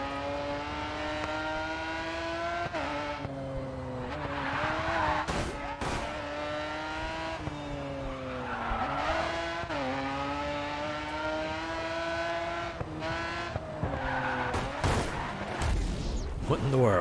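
A race car in the GRID 2 video game wipes out and another car zooms past, a steady engine drone with pitch swings and sharp crash bursts, running under a person talking.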